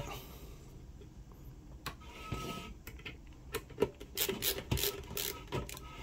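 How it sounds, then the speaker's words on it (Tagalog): Faint scraping and rasping of a screw being turned into a ComFast CF-E319A mount, with intermittent clicks and short rubbing bursts growing busier toward the end, close up and quiet. "Ilalagay lang natin yung isang tornilyo dito."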